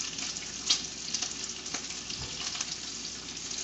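Bacon strips sizzle and crackle steadily in a hot frying pan, a close, continuous hiss dotted with sharp pops and spits.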